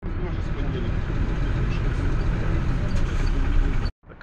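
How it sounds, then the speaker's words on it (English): A city bus idles at a stop in Odessa, Ukraine, its diesel engine giving a deep, steady rumble up close that runs evenly for about four seconds before cutting off sharply. "That's my bus."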